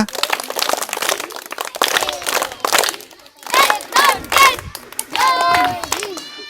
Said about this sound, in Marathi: हा परत एकदा सगळ्यांनी तिघांसाठी टाळ्या वाजवा